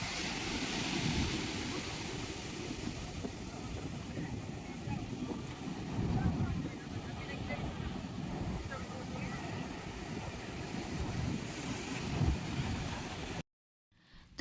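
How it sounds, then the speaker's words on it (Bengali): Sea waves washing onto an uncrowded beach, a steady faint roar of surf with broad wind-blown hiss and soft swelling crashes, cutting off abruptly at the end. "ঢেউটা এত সুন্দর ছিল যে ক্যামেরা বন্দি করে আপনাদের সাথে শেয়ার করলাম"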